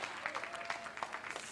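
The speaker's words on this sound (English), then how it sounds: "Everybody, please, a round of applause" An audience at the Ladies in Sports 10th anniversary event gives a round of applause, a dense, steady patter of many hands clapping at moderate loudness with no one speaking over it.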